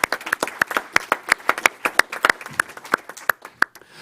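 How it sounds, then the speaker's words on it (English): A small board-meeting audience claps for school custodians, a sparse scatter of distinct, fairly close hand claps at an uneven rhythm, fading toward the end. "Let's give a round of applause for all of our custodians out there."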